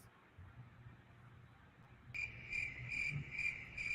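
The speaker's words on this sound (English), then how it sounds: "Why we play the crickets?" A crickets-chirping sound effect plays into a quiet room, entering abruptly after two seconds as steady, evenly pulsed high chirps over a low background hum.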